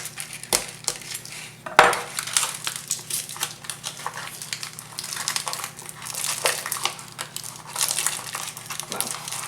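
A package of cheese for enchiladas is cut and torn open in a kitchen, giving close, crisp plastic crinkling with a few sharp clicks and rustles over about nine seconds and no talking.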